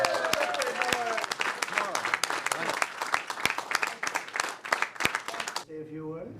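A crowd applauds and claps as someone arrives at a Republican gathering in Congress, sharp dense clapping filling most of the stretch before it gives way to a voice near the end.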